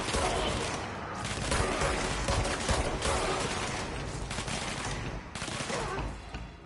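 Rapid gunfire in the video game Control, dense bursts of shots rattling in quick succession with brief lulls, loud and close.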